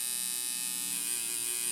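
A tattoo machine fitted with a WJX Acme cartridge needle runs at about 5.5 volts, giving a constant close, high-pitched electric buzz with a steady whine and no voices.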